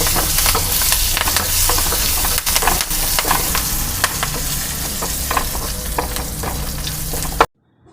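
Asafoetida goes into hot oil for a rasam seasoning, and the oil sizzles loudly and steadily with sharp stirring clicks until it cuts off abruptly near the end.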